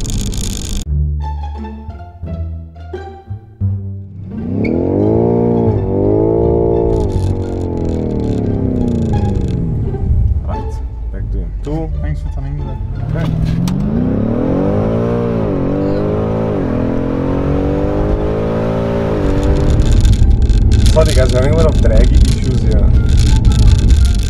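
A BMW M5 Competition accelerating hard, the engine note sweeping upward in repeated climbs through the gears with short drops between them, loud and close. People talk over it.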